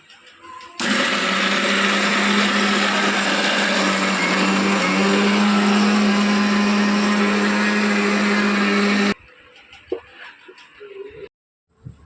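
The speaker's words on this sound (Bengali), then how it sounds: "মিক্সার করবো" A mixer grinder blends soybean and Chocos chocolate cereal for a cake, a loud steady motor whir with grinding for about eight seconds, then it cuts off, leaving faint household noises.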